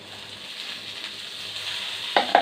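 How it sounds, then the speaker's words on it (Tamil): A single potato frying in hot oil for a karuvadu kuzhambu, a soft continuous sizzle that swells slightly, with two sharper clinks or scrapes near the end. "எண்ணெய் ஊற்றிக்கலாம். ஒரே ஒரு உருளைக்கிழங்கு போடுறேன்."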